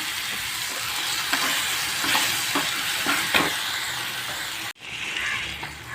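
Masala paste of ginger, garlic, mustard and cumin frying and being stirred in a pan for an Odia-style fish curry, a steady close sizzle with scraping stir strokes, briefly cut near the end.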